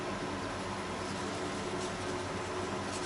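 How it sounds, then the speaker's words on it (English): Steady broadband whir of an electric fan running in a warm room, a constant low hum with airy hiss holding at an even level throughout, no voices. "You can hear my fan in the background"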